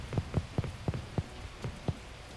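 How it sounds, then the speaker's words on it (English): Rain effect from the dungeon-crawler video game Once upon a Dungeon, heard as a faint steady wash with a handful of distinct, evenly spaced low thuds of drops striking a surface, no voices. "Or at least rain-wise, there is some."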